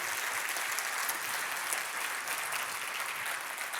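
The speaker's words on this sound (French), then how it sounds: "qu'on peut donc applaudir une fois de plus" Sustained applause fills an awards-evening hall for the trophy makers, a steady dense wash of many hands clapping at moderate distance, even throughout with no voices over it.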